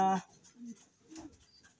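Pigeons at a fancier's loft give two soft, low coos after a brief burst of nearby human voice, with quiet pauses in between.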